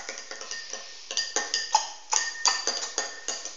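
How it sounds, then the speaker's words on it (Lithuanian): A teaspoon stirs spiced, salted tea in a cup, its rapid, rhythmic metallic clinks ringing against the sides up close with no talking. "Ir paimu šitą magišką šaukštelį ir viską maišysiu."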